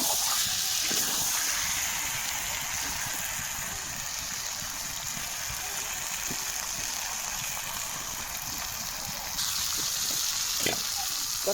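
Water poured into chicken kosha cooking on a wood-fired stove sets off a loud, steady hiss that holds through the whole stretch, with a brief surge near the end and no one talking.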